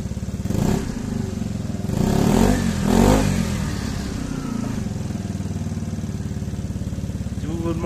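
A 125cc scooter fitted with a GRP aftermarket exhaust revs in two rising bursts around a steady mid-pitched engine drone, close and fairly loud throughout.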